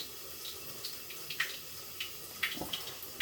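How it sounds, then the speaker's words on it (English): A kitchen tap runs briefly into the sink, a faint, soft hiss of flowing water with a few light splashes and clinks. "Run the tap just for a moment"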